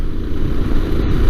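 A Yamaha Tenere 700 adventure motorcycle, a 2022 model, rumbles steadily beneath continuous wind noise as it is ridden outdoors, its engine droning close and loud throughout the short stretch.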